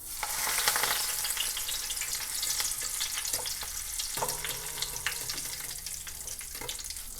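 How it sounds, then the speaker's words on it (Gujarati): Curry leaves fry in hot oil for cornflake chivda, making a steady, dense sizzle and crackle with occasional stirring scrapes throughout. "હવે મેં અહીંયા મીઠો લીમડો લીધો છે, એ પણ તળી લઈશું."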